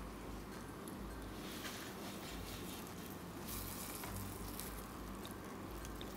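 Flour-coated fish fries in oil, giving a continuous faint crackle and hiss with small pops scattered throughout.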